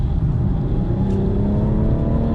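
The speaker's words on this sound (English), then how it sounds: "as I'm driving right now, and I punch the car like" A car under hard acceleration heard from inside, a steady loud engine drone with the pitch gradually climbing as it pulls.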